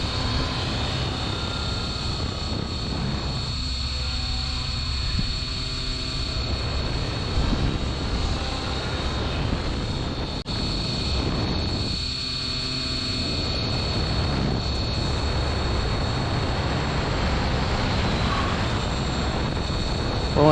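An Align T-Rex 550X radio-controlled helicopter flies steadily, its rotor and motor whine continuous and fairly near, swelling and easing as it manoeuvres through a tail whip.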